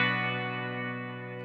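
A Mad Professor Kosmos reverb pedal with minimal ducking sustains a rich, harmonically dense guitar tone that decays slowly with a lush reverberant tail, heard alone at moderate loudness.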